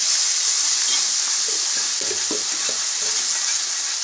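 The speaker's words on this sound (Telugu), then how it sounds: "పసుపు అర టీ స్పూన్ అల్లం వెల్లుల్లి పేస్ట్ వన్ స్పూన్ వేసి కలుపుకుందాం ఒకసారి" Turmeric and ginger garlic paste stirred and frying in a pan for gongura chicken, with a loud continuous sizzle and scattered scraping of the spoon in the middle.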